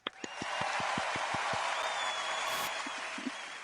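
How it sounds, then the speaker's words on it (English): Applause at a leadership development event, starting with a few separate claps that quickly swell into sustained clapping from a group, steady and close, tapering slightly toward the end. "let's give a big round of applause to David and Mike"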